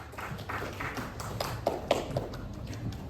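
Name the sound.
audience applause for presenters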